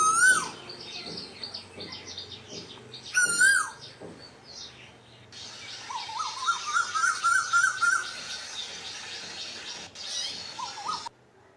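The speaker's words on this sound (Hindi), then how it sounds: "क्या कभी आपने अपने आसपास पेड़ पर बैठी कोयल की मीठी सी आवाज़ सुनी है?" An Asian koel sings from a tree, sending out clear rising whistled calls in bursts, repeated phrase after phrase and fairly close, with other bird chatter mixed in and no voices.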